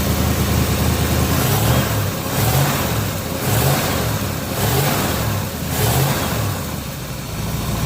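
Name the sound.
1967 Chevelle engine revving, carburetor flooding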